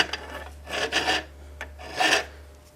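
A hand file with a smooth face scrapes over a metal part of a hydraulic floor jack during its refurbishment. About four close, separate rasping strokes come at an uneven pace, with a faint steady hum underneath.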